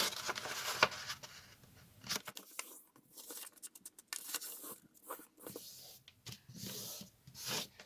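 A sheet of paper is folded in half while making a paper handbag, giving soft, close rubbing and creasing strokes at low volume with short quiet gaps.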